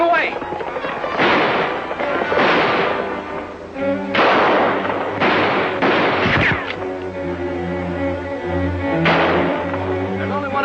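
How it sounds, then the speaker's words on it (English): Gunfire in a western TV show shootout, a burst of sharp shots cutting through dramatic orchestral music and voices at close range. "There's only one of them shooting at us."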